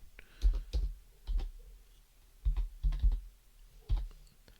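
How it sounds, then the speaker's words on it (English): Close keyboard typing in short bursts of clicks and taps, with brief pauses between bursts. "I'm typing around my microphone"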